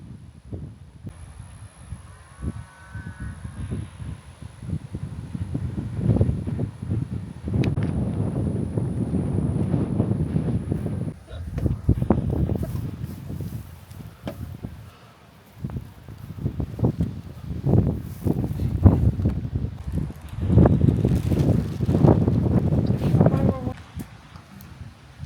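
Wind buffets a microphone outdoors during a lunch stop, gusting in rumbling bursts that rise and fall over several seconds, with a faint steady high tone in the background.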